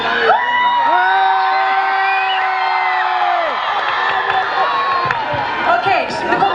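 A large live crowd at a television event screams and cheers loudly. Sustained high shrieks and whoops fill the clip at close range, the roar easing slightly toward the end.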